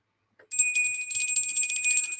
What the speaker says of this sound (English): Just ringing the bell